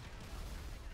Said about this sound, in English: Just give me my grenade launcher.